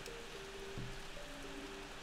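Rain patters steadily in Plants vs. Zombies, a soft dense hiss of drops with faint tonal game sounds over it, no voice.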